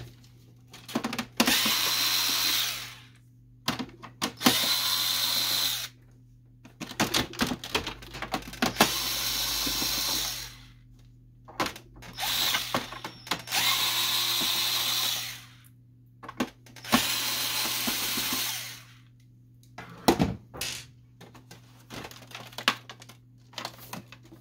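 Screws being removed from the scanner unit of a Canon MG6220 printer, a series of whirring, buzzing bursts of a few seconds each separated by short pauses, close and fairly loud with no talking.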